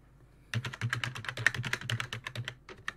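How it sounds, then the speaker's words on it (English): Fingers type rapidly on a computer keyboard in a dense burst of clicky keystrokes after a brief silence, close and steady for about two and a half seconds. "I'm gonna type work group."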